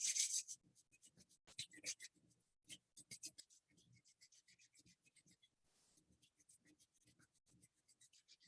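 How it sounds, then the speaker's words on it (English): Palms of the hands rub together in a quiet yoga session, giving soft, dry swishing strokes in short irregular bursts, close and faint, with no talk. "Rubbing the palms against each other."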